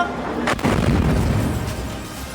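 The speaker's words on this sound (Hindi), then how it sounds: "एक मिसाइल तेजी से आकर एक इमारत से टकराती है, जिसके बाद धमाके की तेज आवाज सुनाई देती है।" A missile strikes a building in the city of Dimona, Israel, during an Iranian attack, and a loud, rumbling boom swells in after a sharp onset and carries on as a sustained roar, with no speech.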